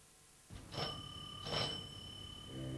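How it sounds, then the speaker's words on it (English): A doorbell chimes twice in a quiet indoor setting, two bright ringing tones close together with lingering overtones, followed by a faint further sound. "The doorbell rang."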